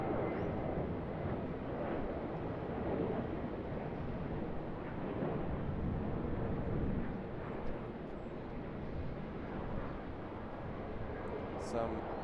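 A Saab 340 turboprop at Sydney Airport makes a continuous, heavy broadband roar that stays loud and steady throughout, with a voice faintly present underneath.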